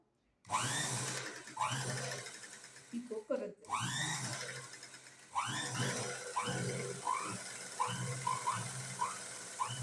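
A domestic sewing machine stitches a picot hem on folded fabric edge in bursts of fast mechanical whirring and rattling, pausing briefly between runs, close and loud with someone talking over it.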